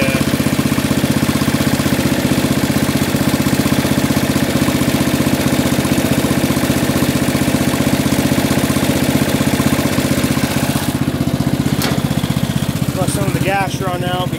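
Yard Machine lawn mower engine running near slow throttle, a loud steady low idling rumble close by with a voice talking over it; the engine noise eases off toward the end.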